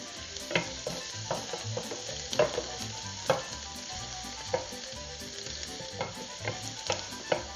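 Bacon frying in a hot, smoking pan, a soft steady sizzle broken by scattered pops and the occasional scrape of a utensil, fairly quiet and close with no talk.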